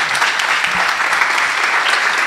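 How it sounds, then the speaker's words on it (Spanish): Steady, dense applause from an audience honouring a speaker at a university engineering faculty session, loud and sustained with no talk over it. "un fuerte aplauso para Ernesto Gómez Pérez"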